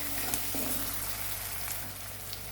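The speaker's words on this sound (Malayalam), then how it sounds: "ഇത് രണ്ടും കൂടി നമുക്കൊന്ന് നന്നായിട്ടൊന്ന് വഴറ്റിയെടുക്കാം." Onion, tomato and curry leaves sautéing in a pan for an egg masala thoran, a steady close sizzle and crackle with faint stirring, no voices.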